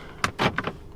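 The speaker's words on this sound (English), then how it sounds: "Unlocking and locking of doors." Car door locks clunk as they unlock and lock, several quick mechanical thunks and a brief motorised whir, close by and with no talking.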